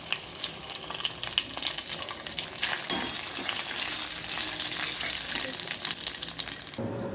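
Ginger garlic paste, mint paste and cumin frying in hot oil, a loud dense crackling sizzle that runs close and unbroken with occasional stirring scrapes, then stops abruptly at the end.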